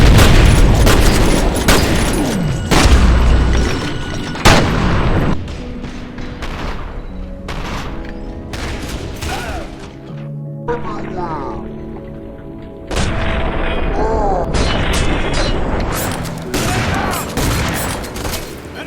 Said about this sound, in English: Like, here, listen to this shotgun.